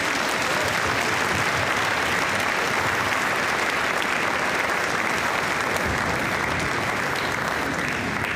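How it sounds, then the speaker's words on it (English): Sustained applause from a convocation audience for a college leadership team, steady and dense throughout without a break. "So round of applause for our leadership team."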